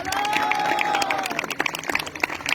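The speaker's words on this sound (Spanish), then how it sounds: "un fuerte aplauso por favor" An audience at a theater play applauds for the cast of a children's production, a busy close burst of clapping with scattered cheers, mixed with a sliding tone and bits of music for a couple of seconds.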